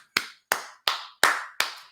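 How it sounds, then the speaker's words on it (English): Five sharp, evenly spaced hand claps ring out close up, each with a short decaying tail, in celebration of a wedding photographer. "Whoever the photographer was, let's give them a round of applause."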